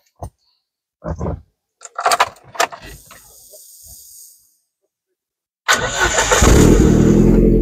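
A 1992 Ford Sierra Cosworth engine cranks after a few clicks and handling noises, then catches and settles into a steady, close idle rumble.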